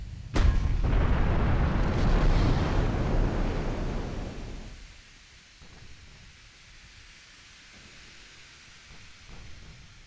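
A torpedo strikes a warship in the naval game Ultimate Admiral Dreadnoughts, a sharp impact followed by a loud rumbling explosion that roars for several seconds, then fades to a low sea-like hush with faint thuds.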